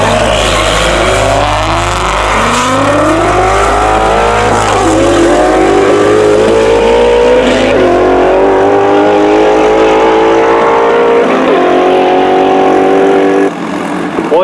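A 1497-wheel-horsepower Xona-powered Ford GT350 roars through a half-mile pass toward 193 mph, its engine note climbing through repeated gear changes, loud and close, with a low steady drone underneath and a brief lift at the end.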